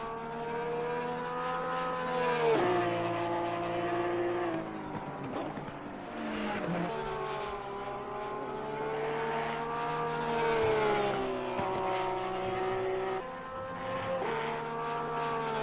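A small Porsche race car laps a circuit, its engine note rising and falling through gear changes as it accelerates and brakes, steady and fairly close, with other cars faintly behind.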